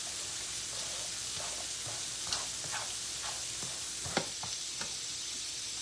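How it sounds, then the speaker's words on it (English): Diced and fresh tomatoes sizzle with garlic in a grill pan, a steady close hiss with a few soft stirring clicks and scrapes scattered through it, no voices. "I'm going to put these diced tomatoes in with the garlic"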